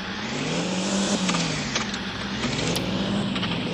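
Car engine in the Indian Simulator 3D driving game revs steadily and climbs in pitch as the vehicle accelerates, a continuous close drone with slight rises and dips.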